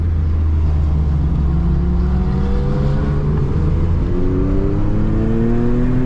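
Porsche GT4RS engine, floored then blipping through downshifts, its rising and falling harmonic sweeps loud and steady throughout, with no talk over it.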